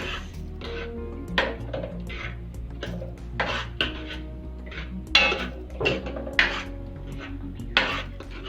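Shahi paneer being mixed slowly in a pan, with soft scraping strokes and occasional clinks of a spoon against metal in a loose rhythm, close and moderately quiet over a steady low hum, with no talk.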